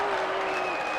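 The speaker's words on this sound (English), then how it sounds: "And then everybody clapped." Steady crowd applause from the Phoenix Wright: Ace Attorney courtroom video game, a dense continuous clapping wash at even loudness across the whole short moment.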